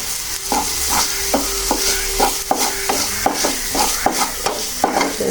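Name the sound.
rice frying and being stirred in a pan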